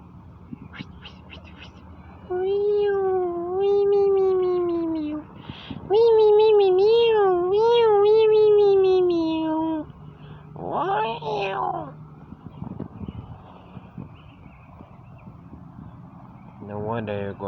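A cat meows repeatedly up close, with long drawn-out, wavering wails, then a shorter, harsher cry, over quiet room background noise.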